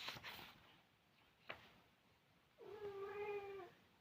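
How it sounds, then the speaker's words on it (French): A pet cat gives a single drawn-out meow close by, clear and fairly loud, after a quiet stretch with a couple of faint soft knocks. "mes minettes qui me fait des petits miaulements"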